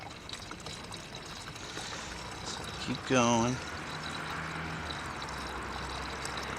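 Coolant, a 50/50 antifreeze mix, is poured slowly into the reservoir of a 2013 Hyundai Sonata GLS: a soft, steady trickle under a brief spoken remark and a short squeaky burst midway.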